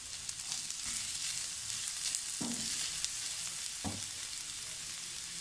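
Chopped carrot, capsicum and moong dal mix frying in a pan, a steady close sizzle with two brief stirring scrapes against the pan.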